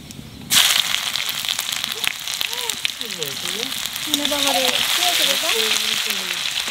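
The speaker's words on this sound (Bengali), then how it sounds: "তেলের মধ্যে দিয়ে দেবো 5 ফোড়ন আর তেজপাতা" Five-spice seeds and bay leaves hit hot oil with a sudden loud burst of sizzling that continues as a steady crackling fry, while a voice talks over it.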